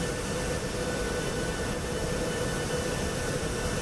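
Steady, continuous jet engine drone of a Boeing 737 MAX 8 airliner in the iFly flight simulator, a dense even roar holding constant throughout with no talk.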